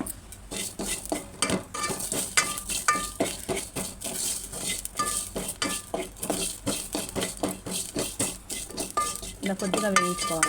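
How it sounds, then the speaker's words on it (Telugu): Whole garam masala spices being dry-roasted and stirred in a pan for a fish curry, with steady scraping and clinking of a spoon against metal, a faint sizzle underneath, close and continuous throughout. "ఇదే ప్యాన్లో మనము గరం మసాలాలు వేయించుకుందాం."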